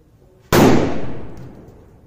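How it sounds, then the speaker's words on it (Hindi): A hydro sutli firecracker bursts during a Diwali cracker test: one sudden, very loud bang out of near silence, then a rumbling tail that fades slowly over more than a second. "one of the loudest hydro cracker मैंने आज तक देखा है दोस्तों बहुत ही जोरदार आवाज है"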